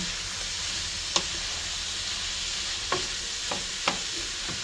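Shrimp for jambalaya cooking in a pan, a steady even sizzle with a handful of sharp spatula taps and scrapes spaced through it, close and unvoiced.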